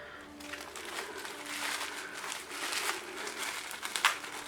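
Pullip Akemi doll faceplate being unwrapped from its packaging, a steady soft crinkling and rustling of plastic and paper lasting throughout, close and fairly quiet, with a slightly sharper crackle near the end.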